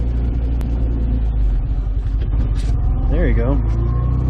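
Classic Fiat 500 with a manual gearbox pulling away in first gear, a loud close engine rumble that rises under steady talk from a driving instructor.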